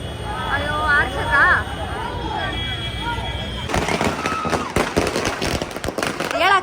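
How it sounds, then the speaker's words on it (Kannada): Firecrackers burst near a Darshan film cutout at a first-day first-show celebration for Devil, where the cutout caught fire. People talk at first, then a dense run of loud, sharp cracks and pops follows. "ಪಟಾಕಿ ಹತ್ತುವಾಗ ದರ್ಶನ್ ಸರ್ದು ಇದು ಕಟ್ಟೌಟ್ ಬೆಂಕಿ ಹತ್ಕೊಂಡ್ಬಿಡ್ತು ಪಟಾಕಿ."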